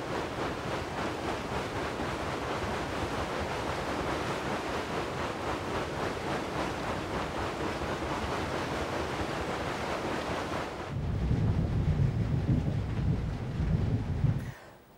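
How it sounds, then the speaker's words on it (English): A water wheel turns at a water mill, with a steady loud rush and splash of falling water, then a deeper churning rumble near the end before it fades. "The water mill is actually powered by this water wheel here."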